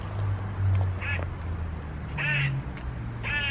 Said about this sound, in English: I think that's the squirrel making that noise.